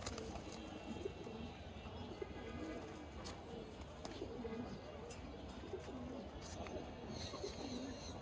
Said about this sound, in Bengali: এই যে কবুতর গুলা ধরে দেখাইবা নাকি?